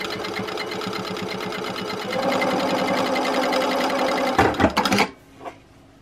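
A sewing machine runs a fast, even stitching rhythm sewing tiny 1mm stitches on scrunchie fabric, getting a bit louder partway. Then it stops in a few clattering bursts and falls quiet.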